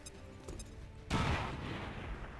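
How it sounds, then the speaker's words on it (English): A grenade explosion in XCOM 2 Long War of the Chosen, one sudden loud blast after a quieter lead-in, with a low rumbling tail that fades slowly over about a second. "I'm throwing the grenade now"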